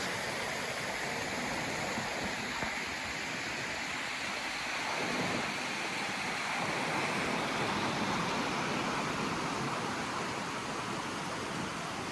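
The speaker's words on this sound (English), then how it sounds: "It's got the creeks running here." A creek running at a gorge campground, heard as a steady, dense wash of water. It stays constant and fairly close throughout, with no voices.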